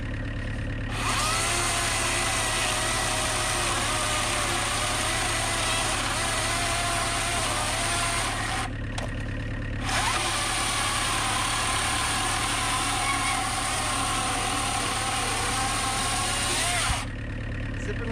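Dewalt 60V Flexvolt brushless chainsaw running at a steady high whine, cutting loudly and continuously with one brief pause midway, close by.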